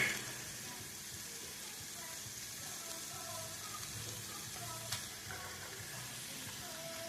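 Low, steady sizzle of browned ground beef frying in a pan as onion and garlic go in, a soft continuous hiss with a faint clatter near the end.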